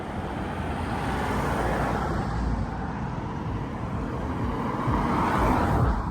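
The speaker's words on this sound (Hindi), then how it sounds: "थोड़ी बहुत इक्का दुक्का कारें आती हैं जाती हैं" Steady traffic rumble from cars passing on a quiet residential street in Bournemouth, England, with a continuous moderate roar and a slight swell near the end. Nobody talks.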